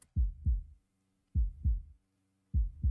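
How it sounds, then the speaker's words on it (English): Heartbeat sound effect opening a UK rap song: three deep, booming lub-dub double thumps at a slow steady pulse, loud and isolated against silence between beats. "Heartbeat."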